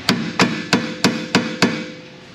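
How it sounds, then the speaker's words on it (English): A hammer strikes six times in a steady rhythm during car coil spring and subframe repair, each blow a crisp, ringing metallic hit up close, nothing else heard. "Hammer."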